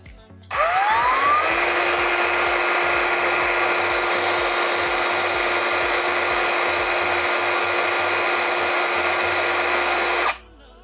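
Ryu RCCS185 cordless brushless circular saw spinning freely for about ten seconds during an RPM test, a loud, steady high-pitched whine that starts abruptly, holds constant, and cuts off at the end.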